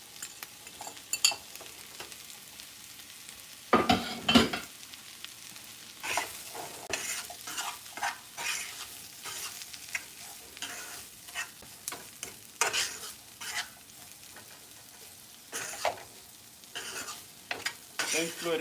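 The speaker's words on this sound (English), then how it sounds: "I'm going to go ahead and add my shrimp back in." Shrimp stir-frying with noodles and broccoli for bootleg chow mein, a continuous close sizzle broken by repeated scraping and tossing strokes of a utensil in the pan, irregular bursts over about eighteen seconds, without speech.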